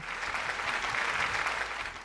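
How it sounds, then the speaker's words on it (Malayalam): A studio audience on a Malayalam TV game show claps in a sustained burst of applause lasting the whole moment, fairly even and moderately loud. "നല്ലൊരു കയ്യടി കൊടുത്തേ."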